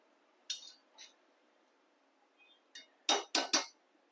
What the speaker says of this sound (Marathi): आता त्यामध्ये आपण प्लेट झाकूया. वरती प्लेट झाकून ठेवायची.